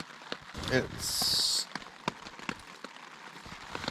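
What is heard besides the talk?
rain falling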